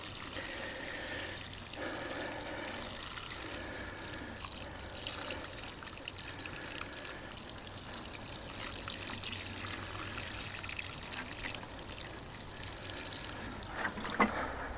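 Liquid fish fertilizer pours from a jug onto plants outdoors, making a steady close trickle and splash that continues for several seconds with small shifts in flow.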